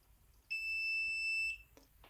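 A smoke detector gives one shrill electronic beep lasting about a second, loud and close against quiet room noise, followed by a faint click.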